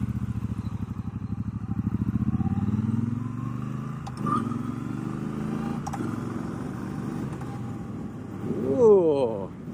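A 2019 Triumph Bonneville Bobber Black motorcycle accelerates on the road, its twin-cylinder engine note rising and pulling steadily, with wind noise and a voice talking over it.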